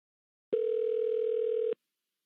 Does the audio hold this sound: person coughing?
no